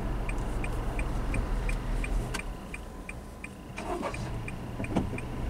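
A Subaru Levorg 1.6 cruising through Sendai in steady cabin road and engine hum, with a crisp regular ticking like a turn signal running throughout.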